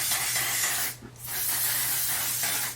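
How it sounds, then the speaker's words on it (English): One Size On Till Dawn mattifying spray hisses from a nozzle in two long, close bursts with a brief gap between them, a steady broadband spray without any talk. "Now I'm gonna go in with the, oh god, One Size On Till Dawn mattifying spray."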